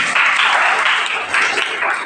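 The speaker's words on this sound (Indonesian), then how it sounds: "Tepuk tangan dulu." Students at a school seminar on bullying at an Islamic junior high school in Banyuwangi break into brief, dense applause, many hands clapping together at close range.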